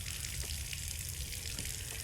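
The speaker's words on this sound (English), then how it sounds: "The faucet in the corner of the room, finally unclogged, bursts to life, and water pours out onto the dirt floor." Water from a freshly unclogged faucet pours steadily onto a dirt floor in the Scarlet Hollow video game, a soft continuous rushing splash that stays faint and even throughout.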